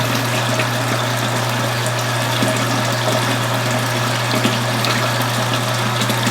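Water gushing steadily into a brewing pot for a nut brown ale mash, a loud continuous pour with a steady pump-like hum beneath, close and unbroken.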